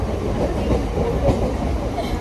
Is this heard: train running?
yes